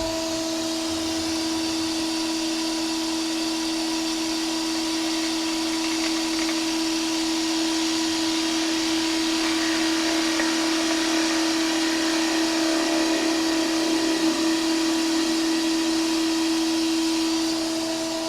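Continuous droning whir of a wood lathe turning the outside surface of a dried core, with a steady tonal hum and faint scraping texture, holding level throughout without speech.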